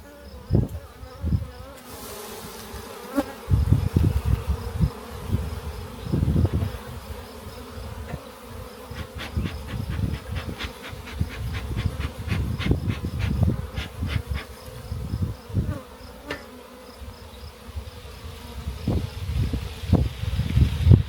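Honey bees buzzing steadily around an open, honey-bound hive during an apiary inspection outdoors, a dense close hum with frequent wooden knocks and handling clatter throughout.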